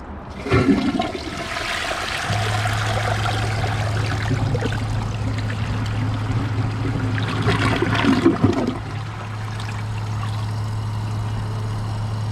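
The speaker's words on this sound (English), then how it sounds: "here's a flush with a blocked siphon jet on an overfilled tank" A 2008 American Standard Champion toilet with a blocked siphon jet and an overfilled tank flushes loudly and close: a sharp start, then a long rushing swirl of water, followed by a steady hiss and trickle as the tank refills.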